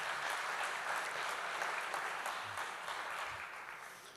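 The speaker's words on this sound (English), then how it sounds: "can we give a round of applause for them?" An audience claps for the event's partners: a continuous wash of many hands applauding at moderate volume for several seconds, slowly easing off toward the end, with no voices over it.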